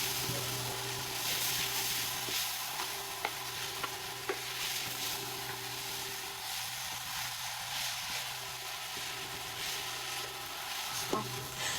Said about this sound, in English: I'm just gonna be mixing all of that together till it is well combined